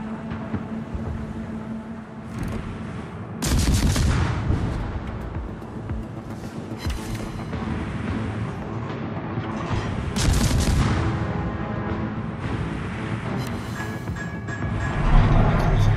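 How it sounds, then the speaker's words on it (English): Warship artillery in the naval combat game World of Warships, heavy booming gunfire salvos rolling near and loud around 3.5 and 10 seconds, with continuous battle rumble and scattered explosions between them. "Concentrate fire on the enemy warship."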